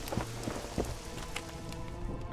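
Rain falls through the army camp in The Witcher 2 video game, a steady hiss with scattered heavier drops and faint thuds, nobody speaking.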